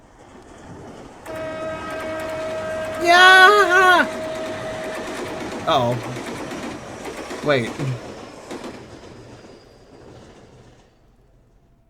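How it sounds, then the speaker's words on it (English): Train arriving at a station in the adventure game The Kids We Were, a loud rumbling pull-in with a long horn blast and screeching, pigeons cooing nearby, while a player talks briefly over it. "The train will be arriving momentarily."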